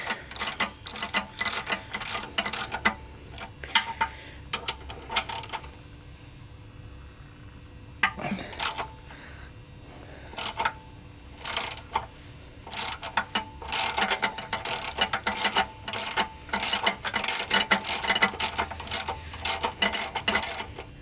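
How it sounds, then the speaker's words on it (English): A ratchet loosens bolts on a Ford tractor 5-speed transmission, with repeated close, sharp clicking strokes in quick bursts and short pauses between them. "the next thing we're going to do is loosen these two bolts"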